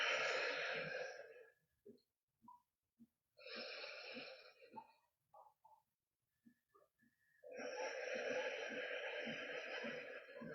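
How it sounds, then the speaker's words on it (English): Slow, deep conscious breaths during a cozy beginner floor yoga flow, three long airy inhales and exhales separated by quiet pauses, close and alone with no talking. "So big conscious breath in, mindful release as you exhale out"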